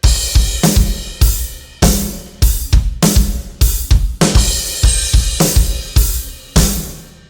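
A lively drum pattern of quick, loud hits with varied spacing, deep kick thumps landing under sharp snare cracks, played alone.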